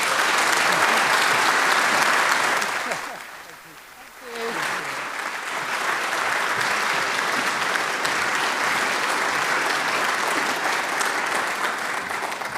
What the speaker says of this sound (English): please join me in saying thank you once more and applauding the work of Mr.